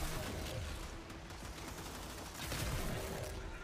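Explosive weapon fire in Warframe rattles in a steady, dense barrage of bursts and booms, moderately loud and continuous throughout.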